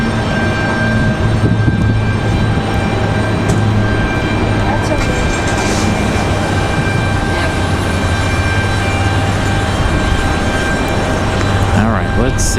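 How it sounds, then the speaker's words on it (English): A Beechcraft King Air turboprop takes off at Raleigh-Durham International airport on a windy day, its engines a steady, broad roar that holds for the whole stretch amid gusty outdoor noise. "That Beach King Air wheels up on the move."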